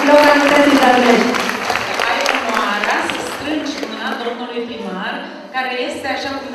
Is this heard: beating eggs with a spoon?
no